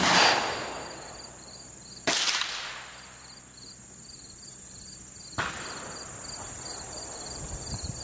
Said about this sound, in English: we're shooting a 174 grain bullet